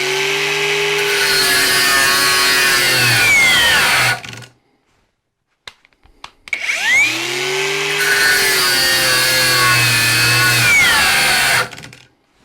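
A Parkside Performance 20V cordless angle grinder cuts with its disc under heavy load in two long close passes, the motor whining and bogging down, broken by a short quiet gap with a few clicks.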